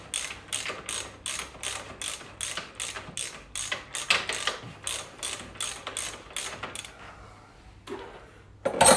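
A ratchet wrench clicks rapidly and steadily, undoing a pre-loosened bolt on the suspension of a 1999 Suzuki Hayabusa motorcycle, with a brief pause before a final sharp metallic clank.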